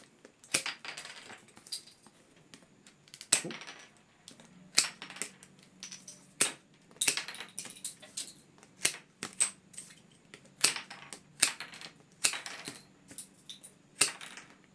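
Pruning shears snip off the spare end bits of willow rods on a woven basket base, giving a series of sharp, close clicks and cuts at an irregular pace with short pauses between them.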